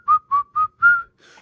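Four short, clear whistled notes in quick succession followed by a fainter fifth tone, the whistle emote from World of Warcraft, alone and crisp.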